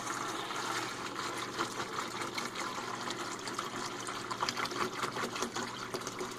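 Water pouring steadily into a gallon jug while homemade chlorine-free bleach is prepared, a continuous close splashing and gurgling stream with no talking.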